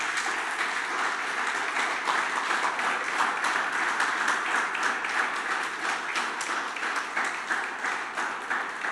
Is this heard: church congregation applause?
yes